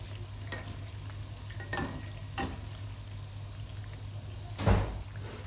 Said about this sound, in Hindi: जितना मैं ऑयल ऊपर डाल रही हूँ वो और फूलती जा रही है।